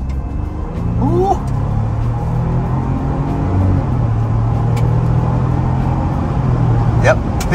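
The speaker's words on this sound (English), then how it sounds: "as you hear, plenty of wind noise with the soft top" Wind noise inside a 2023 Ford Bronco Outer Banks with a soft top while driving, a steady low rushing roar with engine rumble beneath, loud and constant, with a few brief higher squeaks.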